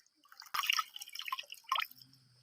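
Water splashes and drips close by in several irregular bursts as fish and squirrel meat are rinsed clean in a basin, with no talking during the sloshing.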